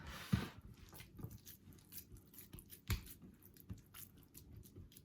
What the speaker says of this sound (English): Now I'm just going to form it into a loaf.